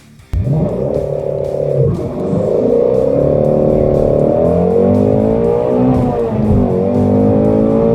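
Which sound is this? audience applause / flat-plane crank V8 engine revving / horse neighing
flat-plane crank V8 engine revving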